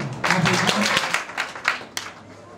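Audience clapping at a beauty institute graduation ceremony, a brief burst of scattered claps from a crowd, heard alongside voices and fading after a couple of seconds.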